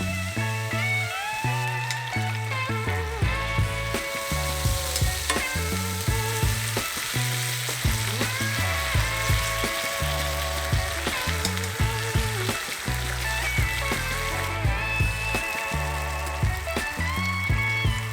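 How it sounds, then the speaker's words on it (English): Ginger pork sizzling with its marinade in a pan over a campfire, a steady frying hiss and crackle lying under prominent music with a clear melody and rhythmic bass, no speech. "Add in some of the marinade to the pan and reduce the heat."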